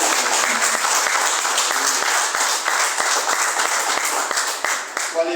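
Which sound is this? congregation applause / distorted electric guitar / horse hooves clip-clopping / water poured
congregation applause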